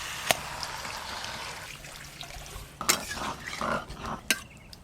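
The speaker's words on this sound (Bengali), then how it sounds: "জল দেব।" Water pours into a pot of spiced pumpkin curry with prawns, a soft trickle running under faint kitchen clatter, with a few brief splashy bursts near the end.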